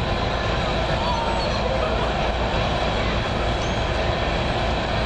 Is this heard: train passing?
yes